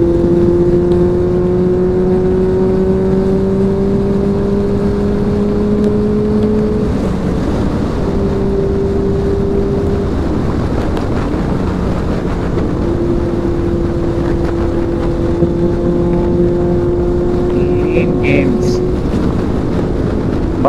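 Motorcycle engine drone while riding on a road, a Continental GT 650 or CBR650F, with a steady sustained engine hum that shifts pitch a few times, heavy wind rush over the microphone and faint talk underneath.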